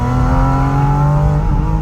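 Porsche engine revving hard toward 6000 rpm, a loud sustained close-up roar with rising pitch throughout the short burst and no voices over it.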